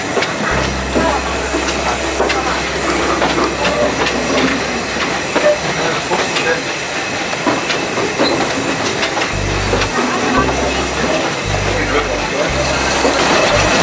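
Vintage steam locomotive train ride at Whiteman Park, Western Australia, a steady rolling rumble and hiss with clickety-clack rail rhythm, low thumping bursts toward the end, and people talking over it.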